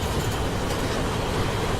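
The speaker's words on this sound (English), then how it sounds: "Another freight train, another long one." A long freight train passes on a South Wales coastal line in Train Simulator 2017, giving a dense, constant roar of wagons and wheels on rails, loud and near throughout the brief stretch.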